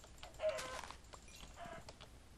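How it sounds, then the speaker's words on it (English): Chickens cluck in a video game, a few quick, faint clucks and squawks scattered across a couple of seconds, soft and somewhat distant. "Chickens, so many chickens."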